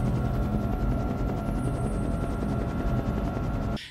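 Helicopter rotor noise from a film crater scene, a steady loud broadband roar with rhythmic chopping that stays constant before cutting off abruptly at the very end.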